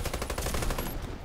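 AM-17 rifle firing in Warface, a rapid steady burst of automatic shots close and loud, the rhythmic crack continuing for about a second before cutting off.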